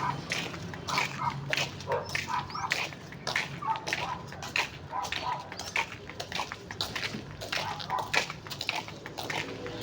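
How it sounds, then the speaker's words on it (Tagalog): Several dogs bark repeatedly at a moderate distance in a neighborhood in Pangasinan province, Philippines, sharp yaps scattered irregularly over a faint background hum. "ang dami ng mga aso"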